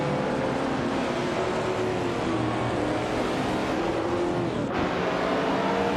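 Race cars roar off the line together at the start of a video game race at Donington Park GP, a classic 1966 Shelby Cobra 427C on pole, forming a loud, continuous, dense engine drone with no talk.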